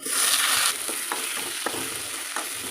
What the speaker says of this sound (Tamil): இப்போ தக்காளி போட்டு நல்லா வதக்கிக்கலாம்